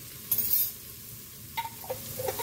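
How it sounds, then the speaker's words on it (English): Garlic sizzles in a hot pan, with a steady frying crackle and a few quick metallic spoon clinks and scrapes as it is stirred, close and fairly quiet. "I'm going to stir this up"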